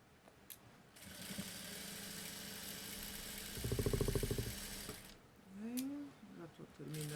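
A sewing machine stitches a child's basic backpack in a steady mechanical whir running from about one to five seconds, peaking briefly in the middle, with someone talking over parts of it.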